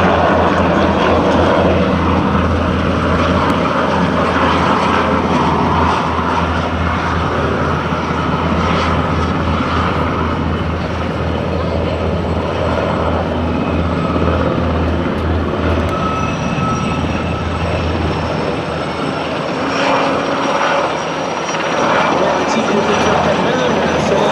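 An NH90 Caïman military helicopter performing an assault demonstration at an air show, its rotor and turbine making a continuous deep droning roar at a moderate distance, with an announcer speaking over it through a public address system.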